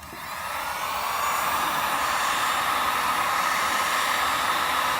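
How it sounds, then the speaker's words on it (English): A heat gun blows over faded, oxidized plastic during restoration. It makes a steady, loud airy hiss and roar that swells up in the first second and then holds constant, with no talking. "hit it with the heat gun. Don't stay in one spot too long or else you will melt your plastics."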